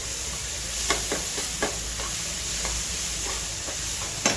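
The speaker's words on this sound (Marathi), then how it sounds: "मीठ टाकून आपल्याला छानपैकी हलवायचं।" Ridge gourd sizzling in a pan with salt while it is stirred, a steady hiss under repeated scraping strokes of a spoon against the pan, fairly close.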